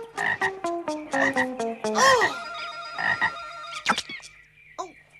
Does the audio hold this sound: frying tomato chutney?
no